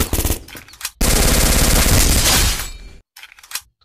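Rapid automatic gunfire from a video game, an initial burst followed by a long sustained volley, then a short silence and a couple of final shots, loud and close with no talk.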